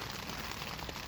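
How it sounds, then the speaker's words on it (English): Heavy rain beats on a cheap tent, a dense steady patter with no talking, close and even throughout the brief moment. "this rain's starting to come down pretty heavy now"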